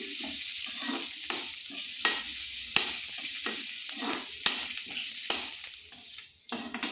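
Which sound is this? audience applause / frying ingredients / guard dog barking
frying ingredients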